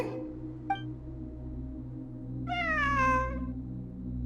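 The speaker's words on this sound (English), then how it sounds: "It really is a cat." In the video game Genshin Impact, a single drawn-out cat meow of about a second rises and then falls. It is preceded by a faint short chirp and set over a low, steady in-game ambient hum, with no talk.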